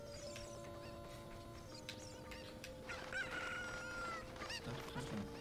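Chicken from the video game Ocarina of Time Master Quest: sustained bird calls and a crow-like cry rise over a steady game soundtrack, with the loudest stretch in the middle and near the end.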